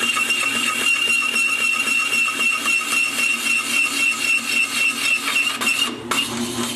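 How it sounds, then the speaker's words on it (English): A drill press cuts a lightening hole with a hole cutter, a loud, close, rhythmic grinding whir with a steady pulsing beat that briefly hangs up near the end before continuing. "See how that drill press hung up and stopped for a second?"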